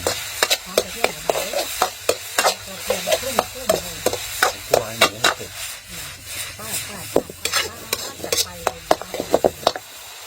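A holy basil stir-fry tossed in a pan: rapid rhythmic scraping strokes of a spatula against the pan, loud and close, over a light sizzle, repeating steadily throughout.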